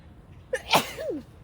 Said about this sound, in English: Feel sneeze coming?